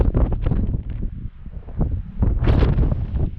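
Strong gusty wind buffets the microphone on a mountain overlook above a valley, rumbling in uneven bursts close up, with no speech.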